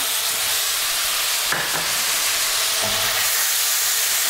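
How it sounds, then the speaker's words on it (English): Chunky white onion pieces fry in a pot for a pork vegetable stew, producing a loud continuous sizzle with a couple of brief stirring scrapes and clatters near the middle, no voices. "We're now going to add in one onion, chunky cuts. I'm using a white one."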